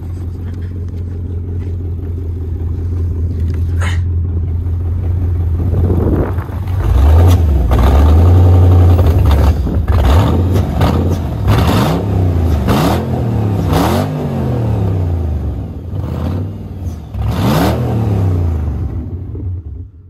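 BMW E30 Touring with a freshly swapped, already faulty engine revving hard as it accelerates, a loud close rumble that climbs and falls through several rising sweeps, with a brief voice heard partway through.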